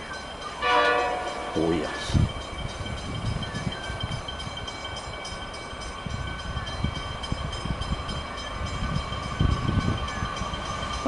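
Horn blasts from an approaching train sound near the start, followed by the steady rumble and clatter of railcars passing close by, with a brief spoken remark.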